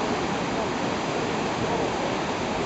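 Lake water rushing out through a failed dam, a steady loud roar of draining water with no break, like a heavy torrent close by.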